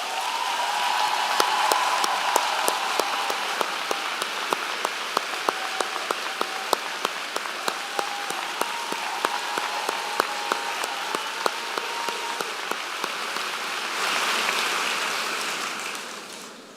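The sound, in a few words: audience applause at commencement ceremony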